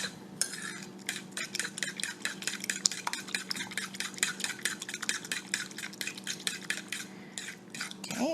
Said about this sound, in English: we're going to take all these liquid ingredients, and mix them up well